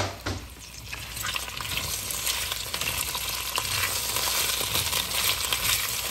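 Taro and small potatoes stir-fried in warm oil in a large stew pot: a continuous close sizzle with scraping and stirring clatter that builds slightly over the clip.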